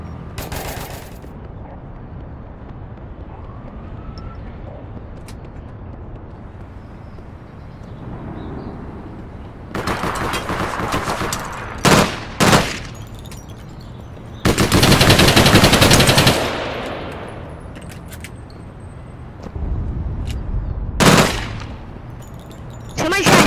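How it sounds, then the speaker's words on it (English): Bursts of gunfire aimed at the player in the online shooter APB: Reloaded, loud clustered volleys of shots separated by quieter stretches, with a voice speaking briefly. "Somebody's trying to shoot at me."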